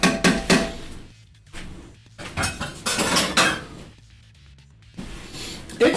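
A pot of fruit jelly, made from old fruit and sugar, clanks and rattles as it is set back onto a kitchen stove, a few loud metallic knocks and scrapes with quiet gaps between them.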